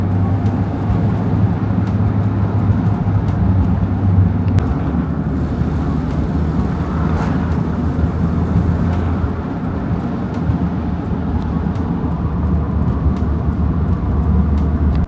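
A Mazda NA Miata engine hums steadily with low exhaust rumble while driving after exhaust manifold gasket replacement, with a remaining exhaust leak; a constant near drone with wind noise and no voices.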